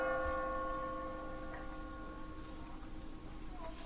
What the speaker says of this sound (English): you hear in the distance, in the middle of the town, the bell tower going off.